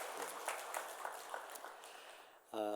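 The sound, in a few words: congregation applause of encouragement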